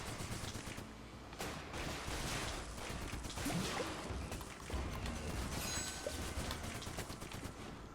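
Gunfire in the online deathmatch shooter Morphies Law: dense, continuous rattling bursts of shots and crashing impacts over a steady busy game soundscape, with no talking.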